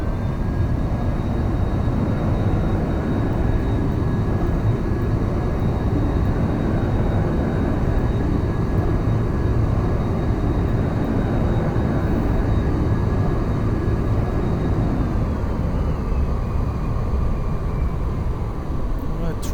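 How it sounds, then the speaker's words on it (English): A fighter jet in the X-Plane 11 flight simulator descends toward a runway with its throttle pulled down and spoilers out, making a steady, loud engine roar with a thin whine above it. The roar runs unbroken throughout. "let's try to land the air fighter jet on the runway"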